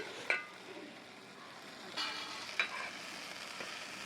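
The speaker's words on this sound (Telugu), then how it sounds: "ఇలా వేయించుకోవాలండి. ఇలా ఒకసారి కూర అంతా కలిసేలా కలుపుకోవాలి." Gongura curry being stir-fried in a pan, with faint steady sizzling and a few scattered spoon scrapes and taps, quiet and close, with no talk.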